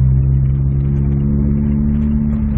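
A 2005 VW Golf with a stage 2 remap accelerates, heard as a loud, steady engine hum with a strong low tone that holds evenly for a couple of seconds inside the car.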